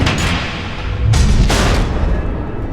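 Missiles explode in the Batman: The Enemy Within video game, producing loud, close, heavy booms that roll into one another over a few seconds with a deep rumbling tail.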